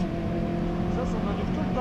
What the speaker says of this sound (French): Là c'est l'admission que t'entends.